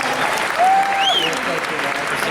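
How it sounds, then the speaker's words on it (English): Audience applause fills a San Diego Comic Con panel hall, a dense sustained clapping wash with a voice cheering or calling out over it near the middle. "Please give yourselves a round of applause."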